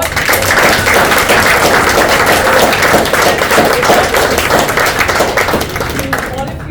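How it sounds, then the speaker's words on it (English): A meeting audience applauds its prepared speakers with loud, steady, dense clapping that fills the whole stretch before easing slightly at the end. "Can we just hear for them with a thunderous applause?"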